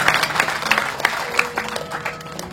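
Scattered clapping from an audience at a community gathering in Kroya, a light patter of hands at middle distance with no voices over it.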